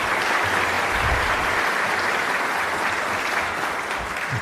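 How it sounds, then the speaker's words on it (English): Dense, continuous applause from a large crowd, a steady wash of clapping that holds at an even level throughout. "Give her a round of applause."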